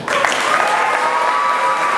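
An audience in a game project presentation hall applauds for a team being introduced, a dense, steady clapping held close and loud throughout, with no talk over it.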